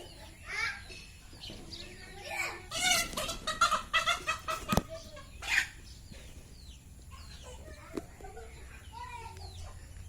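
Chickens cluck intermittently in a home courtyard, several close calls over about ten seconds, mixed with children's voices and other chatter.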